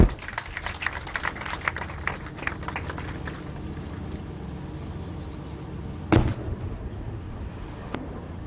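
Weapon fire and explosions at the Raad ul Barq military exercise in Multan, a loud crackling flurry of distant blasts at first that fades, then one sharp boom and a faint later pop.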